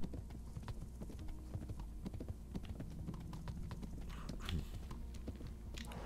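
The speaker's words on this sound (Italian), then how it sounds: "È un cavallo come quello di Shadow of the Colossus?" Horse hooves clip-clop steadily in a video game, the rapid rhythmic footfalls close and continuous throughout with no voices over them.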